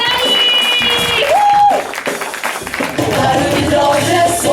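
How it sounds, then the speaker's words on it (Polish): An audience at a youth stage concert in a culture factory claps and cheers for the young performers of a vocal studio, a loud, steady wash of applause running the whole time with a short musical tone rising through it. "Wielkie brawa dla nich!"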